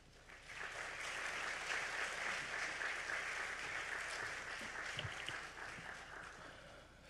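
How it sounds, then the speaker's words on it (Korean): A church congregation at an anniversary service claps to welcome the pastor, a broad, steady round of applause that swells and holds before fading at the end. "이 목사님 나오실 때 큰 박수로 환영해 주시기를 바랍니다"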